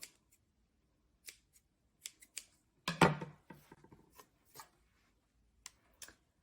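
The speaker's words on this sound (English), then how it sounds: "I'm gonna snip some of it off" Scissors snip excess green yarn fluff from a finger-knit Christmas tree ornament, with several crisp, close cuts spaced irregularly and one longer rasping snip in the middle, on their own with no talk.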